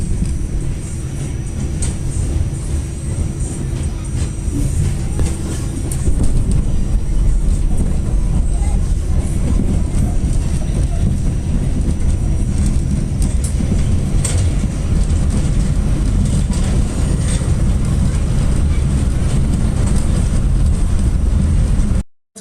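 New York subway A train riding from Rockaway toward Manhattan, heard from inside the car as a continuous loud rumble of wheels on track with rattling and clanks, growing heavier midway.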